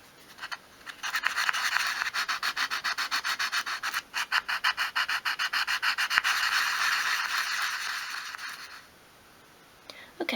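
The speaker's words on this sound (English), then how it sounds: "Another good way of getting into those sort of hard to reach areas is by using an emery board." An emery board sanding small wooden dolls house furniture pieces: close, steady back-and-forth rasping strokes in a fast rhythm for several seconds, then stopping near the end.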